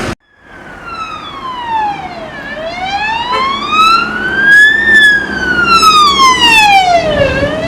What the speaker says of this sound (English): Third ambulance I think I've seen today.